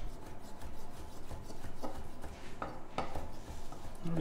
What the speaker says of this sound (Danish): Så skal vi have hakket vores østers.